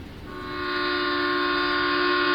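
A Katwa local train sets off with a sustained, steady horn blast that swells in loudness and then holds, close and clear above a low rumble.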